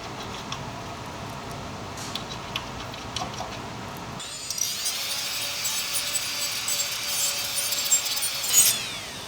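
A worn bristle brush cleaner scrubs old up-pipe gasket material off metal on a 6.7L Powerstroke engine, starting with light scratchy strokes and turning into a steady, bright, close rasping scrub.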